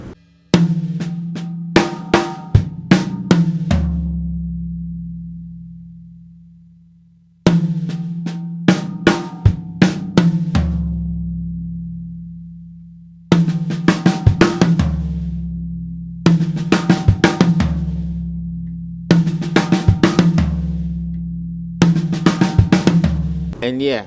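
A drum kit plays repeated fills across snare and toms with kick, rhythmic bursts of hits, the later ones denser, ringing toms between phrases, no voices.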